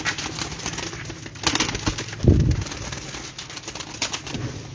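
Pigeons kept in a loft rustle and flap their wings in short bursts, with one louder flutter of wings close by and faint soft cooing, in a quiet setting with no talk.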